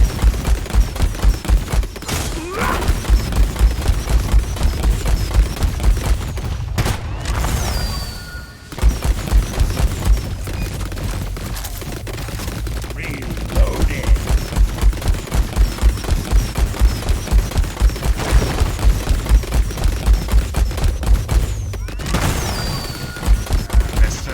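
Plasma burster missiles fire in a sci-fi video game battle against a dreadnought, a dense, sustained barrage of rapid booming blasts and crashes that rolls on almost continuously, with brief lulls.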